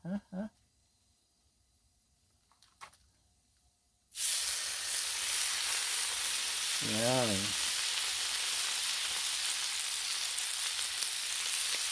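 Bacon frying on a Blackstone griddle set to medium, a loud steady sizzle that starts suddenly and fills the rest of the clip, with a short stretch of voice partway through.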